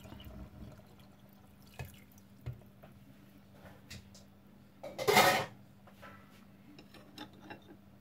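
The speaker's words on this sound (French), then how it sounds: "Je vais rajouter 200 ml de l'eau." Water pours into a pan while pork ribs with pineapple are being cooked: a single broad splashing rush about half a second long, preceded by scattered soft drips and kitchen clatter over a steady low hum.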